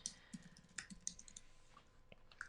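Rapid, uneven clicking of computer keyboard keys typed in short bursts, close and fairly quiet, with no voices.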